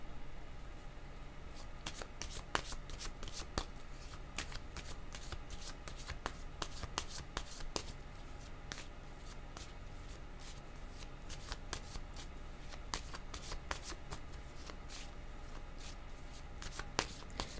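Tarot cards shuffled by hand at close range, a quiet, steady riffling with frequent sharp card snaps and taps scattered throughout, and no voices.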